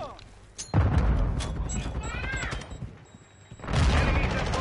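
Dense bursts of gunfire in Call of Duty MW2 ranked play, loud volleys at the start and end with a quieter gap between, while players talk over the shooting.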